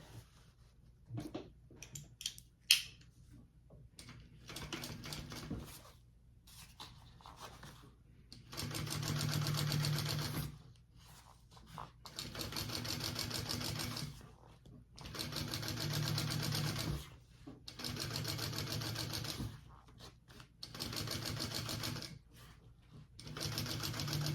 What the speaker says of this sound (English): now I'm going to top stitch along this exterior panel